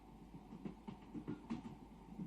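A train runs on its rails with a steady low rumble and rhythmic clickety-clack beats, heard alone at a moderate, even level.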